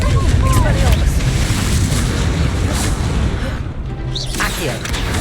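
Spell blasts and explosions from Hogwarts Legacy gameplay, with the Confringo and Expelliarmus spells, hit as loud booming bursts and crashes, one after another, over a dense, rumbling battle backdrop.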